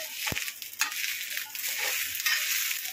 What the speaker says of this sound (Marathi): मग तेल टाकून मस्त अजून छान खरपूस मिरची भाजून घ्यायची